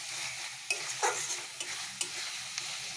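Frying in a pan with a soft, continuous sizzle broken by several sharp scrapes and knocks of a utensil stirring, quiet and close, no talk.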